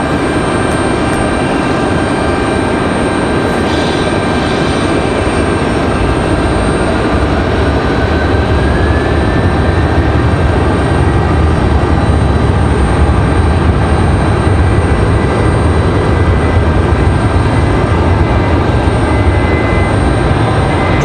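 A Southwest airliner takes off from runway 23 left at Raleigh-Durham airport, a loud, sustained jet roar with a faint rising engine whine, continuous and unbroken throughout.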